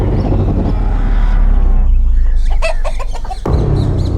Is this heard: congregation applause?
no